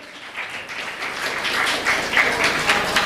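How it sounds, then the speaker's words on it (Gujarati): Audience applause at a stage event in Surat, a steady wash of many hands clapping with sharper claps scattered through it, holding at a moderate level for the whole stretch. "તાળીઓનો નાદ સતત મિત્રો ચાલુ રહેવો જોઈએ"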